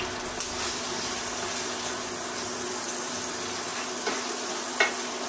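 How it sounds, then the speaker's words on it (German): Fresh sage leaves hit melted butter in a pan, producing a steady soft sizzle with a few sharp clinks of a utensil against the pan. "Ich gebe den Salbei hier rein, dass die Butter nicht anfängt zu spritzen."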